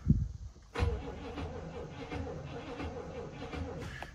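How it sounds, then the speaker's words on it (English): The engine of a 1972 Barth RV motorhome cranks over with a steady, rhythmic churning after a brief thump, close by and moderately loud without catching. "that's an engine that wants to go."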